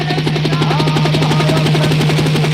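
Helicopter overhead at a live outdoor nautanki folk-theatre performance in Raebareli, a loud, continuous rhythmic rotor chop with a steady droning hum throughout.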